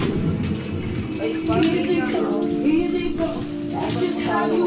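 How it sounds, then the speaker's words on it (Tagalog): Water runs steadily from a tap, a constant splashing rush heard beneath people talking. "Ay, yung gripo."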